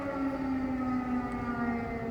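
An air raid siren wails in Kharkiv's Saltivka district on 7 February 2024, a sustained steady tone heard from a distance indoors, droning on without pause and with no talk.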